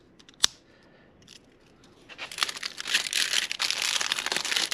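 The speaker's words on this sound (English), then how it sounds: "let's get this plastic jacket off first." Plastic wrapping crinkles loudly and steadily as it is pulled off a new Heomaito battery for a 1999 Suzuki DR350SE motorcycle, after a single sharp click near the start and a quiet pause.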